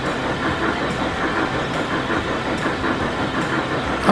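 A train rolling along rails in the Transport Fever 2 railway game, a steady loud rumble with faint rhythmic clicks of wheels over rail joints throughout, no voices.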